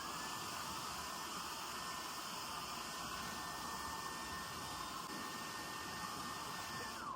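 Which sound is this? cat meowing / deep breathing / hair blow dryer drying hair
hair blow dryer drying hair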